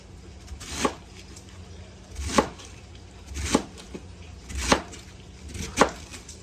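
A knife cuts cabbage into thin strips on a board, five crisp, evenly spaced chops about a second and a half apart, close and clear.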